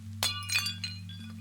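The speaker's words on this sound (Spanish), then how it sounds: "lo que me llamó la atención no fue el golpe, sino el sonido de vidrio rompiéndose" Glass breaking inside a box falling from a high shelf: a few short, bright clinks and tinkles of shattering glass over a steady low hum, fairly faint.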